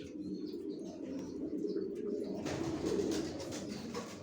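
Racing pigeons coo in a soft, low rolling murmur throughout, fairly quiet and close, with a brighter rustle partway through.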